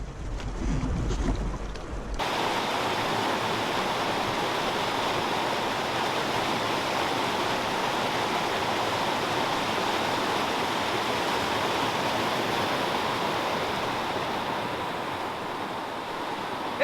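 River water rushes around a rough bend on a canoe trip, a loud, broad, unbroken roar of rapids. A brief low rumble comes first, then the rush holds steady to the end without voices.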